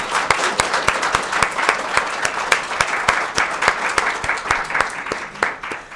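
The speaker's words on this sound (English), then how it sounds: "Let's give this group a round of applause." An event audience applauds the MLK Planning Committee at a gathering honoring Dr. Martin Luther King Jr., with sharp, sustained clapping from a crowd filling the room, loud and steady throughout.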